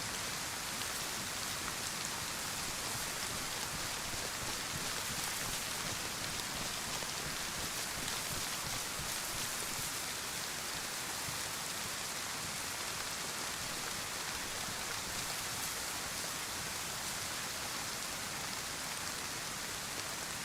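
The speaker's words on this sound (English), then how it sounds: "It's also going to be harder to hear footsteps because of the rain" Steady heavy rain in a video game, falling in a dense, even hiss that stays constant throughout, fairly quiet and with no talking.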